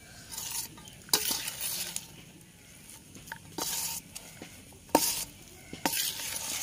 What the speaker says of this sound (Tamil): மாவை நல்லா கலரி விட்டுக்கிட்டேன்.